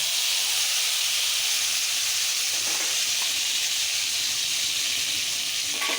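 Spice paste frying in hot oil with whole cumin seeds, giving a loud, steady hiss and sizzle that runs without a break throughout.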